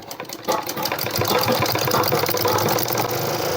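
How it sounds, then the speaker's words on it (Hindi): A sewing machine stitching the shoulder seam of a women's shirt, a fast steady mechanical whir with rapid rhythmic ticking that starts after a brief quieter moment and runs continuously, close and fairly loud. "अब हम यहाँ पर देखिए इस तरह से इस पर सिलाई लगा देंगे।"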